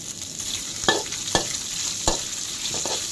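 Chilli, garlic and fingerroot stir-fried in a wok for a homestyle pork stir-fry: a steady loud sizzle with several sharp scraping strokes of the spatula at irregular intervals, no talking.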